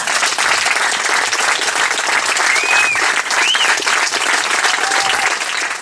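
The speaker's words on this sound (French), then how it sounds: "Un tonnerre d'applaudissements," A wedding crowd applauds to welcome the groom, a dense, loud, sustained wash of clapping that fills the whole stretch evenly, with a couple of faint whistles cutting through near the middle.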